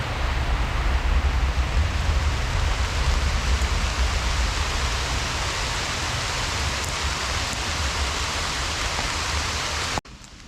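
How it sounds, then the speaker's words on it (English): Steady rain falls outdoors in the woods, a dense, even hiss of drops on leaves and ground continuing for about ten seconds before stopping abruptly. "the rain's pretty much over, I think"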